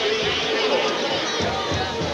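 Home-side crowd at a high school football championship game, a dense continuous roar of cheering and chatter filling the stands, steady and fairly loud, with a commentator talking over it.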